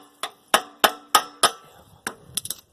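Sharp metal taps on a stuck part of a Tecumseh carburetor from a Craftsman push mower's 6.5 hp Vector engine: five evenly spaced knocks, a pause, then a quicker cluster of lighter taps, close and distinct.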